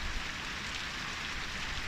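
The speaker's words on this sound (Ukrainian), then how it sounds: "Дощ іде не перестає." Steady rain falling outdoors during a downpour, a soft continuous hiss of drops pattering on surfaces, moderately quiet and even throughout with no talking.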